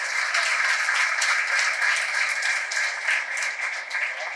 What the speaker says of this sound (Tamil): அந்த சகோதரிக்கு ஒரு கைத்தட்டு கொடுங்க